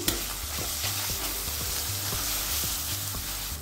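A besan and potato curry fries in a pan with a steady, dense sizzle throughout, broken by regular spoon scrapes and stirring knocks, close and continuous with no voices.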